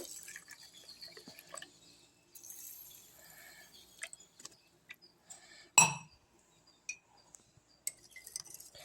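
Rock salt being stirred into water in a glass, giving scattered light clinks and taps with small liquid sounds, one sharper clink partway through, close and fairly quiet with no talk.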